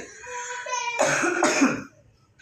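Two harsh coughs in quick succession, close and loud, following a brief voiced sound, then quiet.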